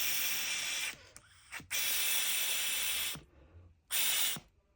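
Air blown through a hose into a PCV valve produces sharp, loud hissing bursts, three main blasts of uneven length with quiet gaps and a faint clicking between them.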